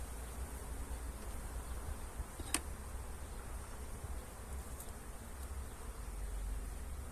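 A colony of Italian honeybees buzzes steadily at an open hive during an inspection, a dense continuous drone close by with a few sharp clicks of handling.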